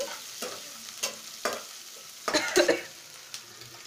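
Rice semolina frying for upma, stirred around a pan with a run of scraping strokes and a soft sizzle, the stirring growing busier and louder toward the end.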